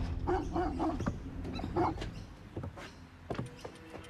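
Dogs bark in a quiet residential neighbourhood: several short, fairly close woofs in quick bursts, then scattered fainter yips, with no talking.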